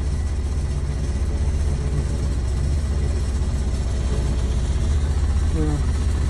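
A side-by-side utility vehicle's engine runs steadily close by with a constant low rumble, pulling well pump pipe up by a line through a snatch block mounted on a pole atop a skid steer, the pitch staying even throughout.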